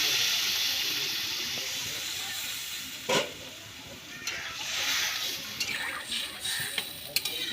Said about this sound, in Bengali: ঝোলটা খুব সুন্দর ফুটছে